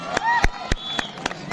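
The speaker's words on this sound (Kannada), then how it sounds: "ಒಂದ್ಸಲ ಚಪ್ಪಾಳೆ ಕೊಡ್ಬೋದಾ?" Spectators clap in a brief run of spaced, rhythmic claps before a village kabaddi match between Banjara Bulls and Sai Sambrani, with a voice talking faintly in the background.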